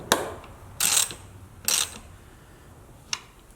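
Ratchet wrench tightening bolts on rear body armor of a Jeep TJ, heard as a few short close ratcheting bursts with pauses between, then one faint click near the end.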